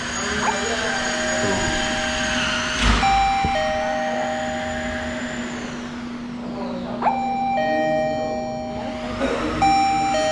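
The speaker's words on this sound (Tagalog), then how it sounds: "Ito yung doorbell niya." An electronic smart lock's doorbell sounds a sustained chime melody, close and clear, repeating twice with brief gaps and faint handling noise in between.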